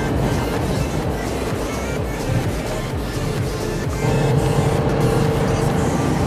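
A Yamaha MT07 motorcycle is ridden on the road, its engine a steady close rumble under heavy wind rush that swells slightly toward the end.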